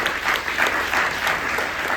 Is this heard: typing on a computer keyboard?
no